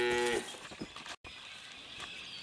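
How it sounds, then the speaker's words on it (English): Two-year-old heifers on a hay diet moo on a farm: one loud, close low call opening the clip, then fainter lowing and ambient outdoor noise. "Our 2-year-old heifers,"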